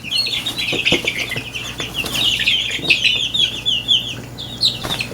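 Many hens clucking and chattering continuously nearby, with a few scattered clunks and scuffles among the flock.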